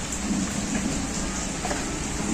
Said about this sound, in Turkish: bugün yine İstanbul'da çok feci şekilde bir yağmur yağıyor